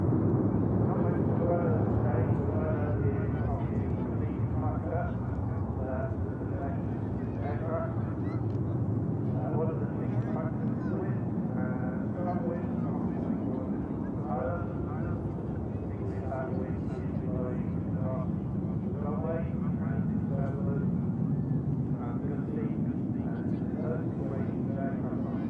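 A Hainan Airlines airliner departs Manchester Airport with a loud, sustained jet roar that builds and rumbles on for the whole stretch, with people talking over it.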